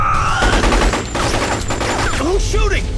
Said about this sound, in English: Who's shooting? Who's shooting? The bastard shot him!